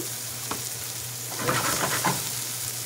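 Atlantic tiger shrimp sauté in a hot pan with a steady close sizzle and frying crackle, with a few brief stirring scrapes swelling the noise midway; no voices.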